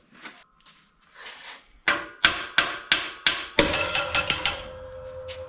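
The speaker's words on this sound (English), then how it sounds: "a mixture of adding some heat, a bit of hammering, tapping, some pressure" Sharp metallic hammer blows on a seized front wheel bearing of a Suzuki SX4, about eight in a steady series, preceded by a few quieter taps and scrapes; close and loud with no talking.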